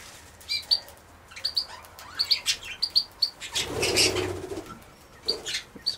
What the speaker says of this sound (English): That's one of the budgies.